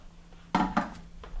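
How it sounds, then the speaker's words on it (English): Chopped razor clams dropped into a pot of chowder, two quick close clattering knocks against the pot followed by a lighter third tap. "So I'm going to go ahead and add my chopped up clams."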